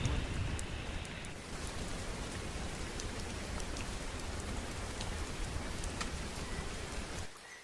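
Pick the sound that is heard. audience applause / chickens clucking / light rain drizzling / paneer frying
light rain drizzling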